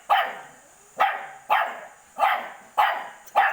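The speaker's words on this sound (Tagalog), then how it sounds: "Hayaan mo lang siya, kaya nagtahol-tahol nga siya." A dog barks six times in a steady rhythm, each bark sharp and close, with brief quiet gaps between them.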